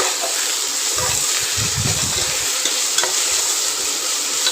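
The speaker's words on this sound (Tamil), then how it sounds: "அதையும் எடுத்து கூடவே சேர்த்து நல்லா வதக்கணும்." Handful of mint and coriander leaves tossed into hot oil for mushroom biryani, a loud constant hiss of frying with a burst of low clattering stirs, heard close and without talk.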